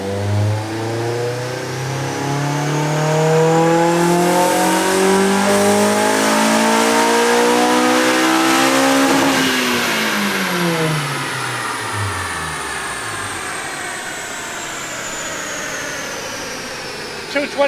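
A Honda S2000 fitted with a modified OEM air box revs continuously on a dyno, its engine climbing loudly through the rev range to a screaming peak, then winding down in a long falling tone.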